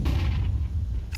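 A grenade and molotov going off in a Counter-Strike esports match, heavy low booming blasts with rumbling fire-like noise over about a second, fairly loud and dense.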